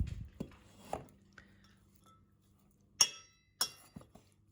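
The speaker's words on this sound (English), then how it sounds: "So now I'm just stirring up the pumpkin into the bedding." Quiet clinks and taps of a utensil against a container while pumpkin is stirred into worm bedding, with two sharper glassy clinks standing out among soft scraping and squishing.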